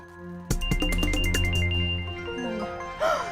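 Loud phone ringtone bursts in with a bright melodic electronic jingle, a run of quick ringing tones that hold and fade, close and alone.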